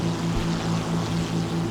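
Steady propeller aircraft engine drone from an F4 fighter plane in the combat game War Thunder, a continuous even hum with no talking.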